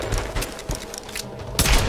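Gunfire in the Tomb Raider video game: several close, punchy shots and bursts crack out in quick succession over a couple of seconds, with a heavy thump near the end.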